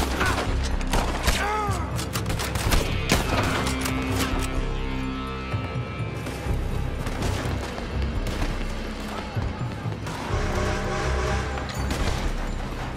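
Bursts of gunfire ring out from a building in Red Dead Redemption 2, loud repeated shots and booms mixed with clattering action sounds over about thirteen seconds, dense and close.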